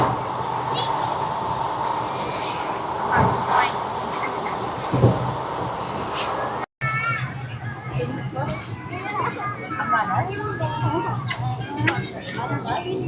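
Tirupati Express rolling along the rails on an Indian passenger line, a steady rumble of wheels and carriage noise running throughout, with children's chatter and voices over it and a brief cut midway.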